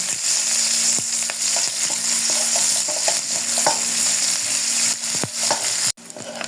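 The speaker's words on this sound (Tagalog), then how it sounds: "Ilagay naman natin itong ating sibuyas. Ayan, halo-halo natin." Chopped garlic and onion sizzle and get stirred together in a hot pan for chopsuey, a steady close frying hiss with occasional scrape and clink of the utensil against the pan.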